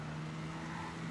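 A car driven in the video game Watch Dogs gives off a steady, even engine drone with a constant low hum that holds at the same level throughout, with no voices.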